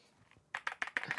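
A computer keyboard is typed on in a quick burst of five or six close, crisp key clicks after a brief quiet moment.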